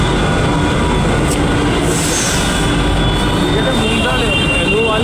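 Metro train running loudly with a constant roar and rumble, a faint squeal of wheels, heard from inside the carriage while people talk over it.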